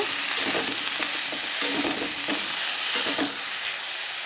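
Cauliflower frying with turmeric powder, stirred in the pan, loud continuous sizzling broken by rhythmic scraping strokes of a spatula, close and alone without talk.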